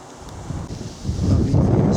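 Wind rushes against the microphone on a countryside walk between Milford and Haslemere, a steady low rumble that swells into a stronger, louder gust in the second half.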